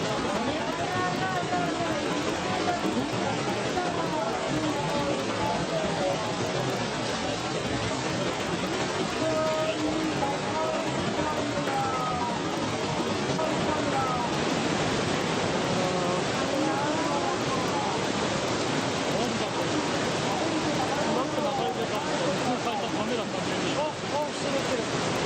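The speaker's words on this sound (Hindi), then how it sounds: "इस वीडियो को जापान के एक शख्स ने तब रिकॉर्ड किया जब सुनामी की लहरें जापान के शहरों में अपना प्रकोप दिखा रही थी।" Tsunami waves flooding a Japanese town make a continuous, loud roar of rushing water and wind-like noise that holds steady throughout.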